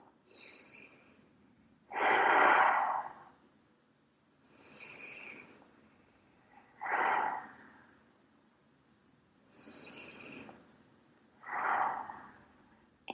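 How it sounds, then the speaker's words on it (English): Three slow, deep breaths taken close to the microphone, each a long noisy inhale followed by a softer airy exhale, spaced evenly with quiet pauses between. "And just take 3 breaths."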